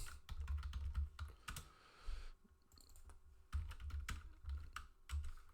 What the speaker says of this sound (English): I was typing up a storm here